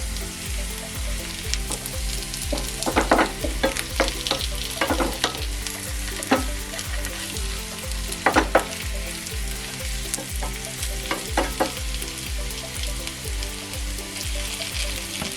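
Onions, green chillies and curry leaves fry with eggplant in a pan, giving a continuous close sizzle. Clusters of sharper crackles and spatters come and go, and a low steady hum runs underneath. Nobody speaks.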